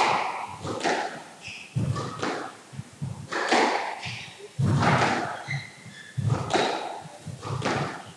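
Squash balls struck in a women's squash match at the 2018 Irish Open, a series of sharp, hollow thuds and wall smacks spaced irregularly through a rally, fairly close and distinct, with occasional quieter taps between hits.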